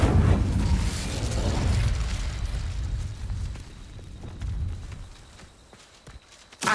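A fire spell bursts in Hogwarts Legacy, opening with a loud, close explosive whoosh and low rumble that fades into a dull, settling roar.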